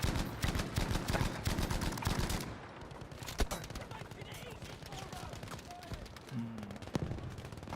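Video game battle with rapid gunfire bursts and rocket blasts, dense and loud for the first few seconds, then scattered shots and thuds further off; a voice speaks over the later part.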